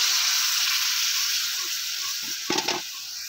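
Cucumber curry simmers in a pan after a splash of water, giving a steady loud sizzle and hiss with a short burst of bubbling and stirring near the end.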